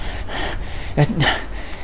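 A voice imitates heavy panting during a horror tabletop role-playing session, with a few breathy gasps close to the microphone over a steady background hiss.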